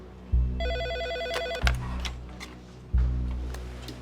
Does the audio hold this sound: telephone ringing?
yes